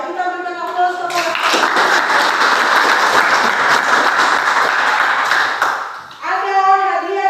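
Classroom applause for a student group, a dense burst of many hands clapping together, loud and steady for about five seconds before fading, with voices heard before and after.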